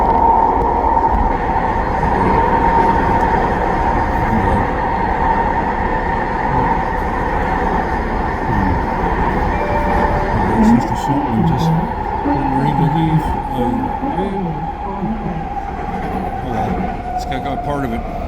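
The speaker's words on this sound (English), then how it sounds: "I'm going to try to get here early enough to capture the eastbound shop train." An eastbound train rolls past on the railway on the way to the rail yards, making a continuous heavy rumble with faint metallic clanks and squeals. It stays at an even, fairly loud level throughout.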